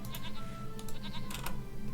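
Goat bleats in the Age of Empires 3 strategy game, several short bleats in quick succession over a steady low game ambience, fairly close and clear.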